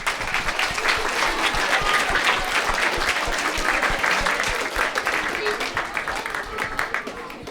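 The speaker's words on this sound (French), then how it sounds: "Merci Alexandre, on peut l'applaudir aussi." Middle-school students in a conference hall applaud an athlete's talk, a full, steady wash of clapping from many hands lasting several seconds, with faint voices mixed underneath.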